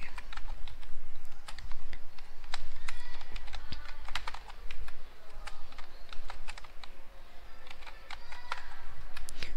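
Typing on a computer keyboard while writing a shell script, a continuous run of close key clicks at an uneven pace over a low steady background hum, with no voices.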